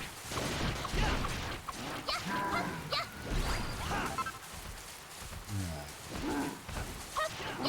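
Chicken in Dragon Quest Builders 2 clucking and squawking in short, scattered bursts amid clattering game noise and chaotic background sound.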